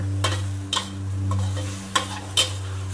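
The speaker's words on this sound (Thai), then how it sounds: "ถ้าผัดผักแบบนี้ต้องไฟแรงๆเลยค่ะ" Water spinach with minced pork being stir-fried in a pan over high heat: a steady low hum with four short clattering stirring strokes spaced through the three seconds, no voices.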